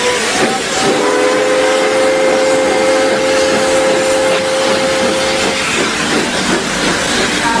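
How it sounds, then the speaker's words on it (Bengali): A train pulls away from a small station with a sustained whistle tone over a continuous rumbling, hissing roll of wheels and carriages, loud and steady, the whistle cutting out partway through. "ট্রেন 2 মিনিট থেমে চলে গেল।"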